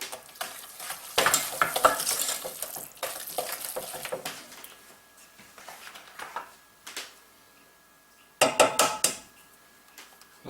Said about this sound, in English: and then stir it in